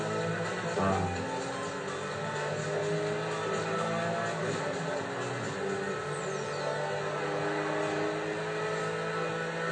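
Race car engine in Forza Horizon 5 on the Estadio circuit at the Horizon Festival in Mexico, a continuous loud droning engine note with shifting pitch that runs throughout.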